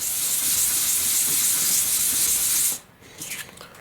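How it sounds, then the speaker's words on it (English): Carbon wing joiners for an RC glider are rubbed with 400-grit sandpaper, a loud continuous bright hissing scrape that stops abruptly near the end, leaving quieter faint handling sounds. "what I'm going to do is just basically sand all the sides of the joiners"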